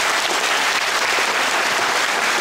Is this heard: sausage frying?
no